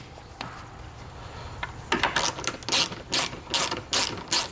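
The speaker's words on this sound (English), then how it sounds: "we're going to take a 10mm socket and we're just going to remove both of these nuts here" A 10mm socket ratchet clicks through a burst of quick pawl ratchets while nuts are backed off a 2019 Audi A5 rear bumper, with a faint early click and then loud, close, rhythmic ratcheting strokes.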